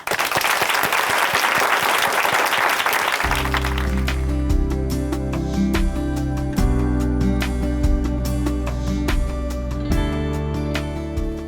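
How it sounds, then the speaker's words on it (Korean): Loud, sustained applause from a large church congregation fills the room, with a brief burst of noise before it settles into steady clapping. "어느 때보다도 큰 박수로 모시겠습니다."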